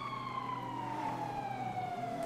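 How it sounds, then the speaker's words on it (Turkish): A police siren in the game GTA 5 wails steadily across the whole short stretch, its tone sliding slowly downward, loud and alone without any talk. "Bizim bu malikanenin çevresinde biliyorsunuz ne siren sesi ne polis sesi hiç eksik olmaz."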